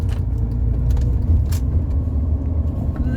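Rover 45 Impression S3 CVT car driving, heard from inside the cabin as a steady low engine and road rumble with occasional light rattles and clicks.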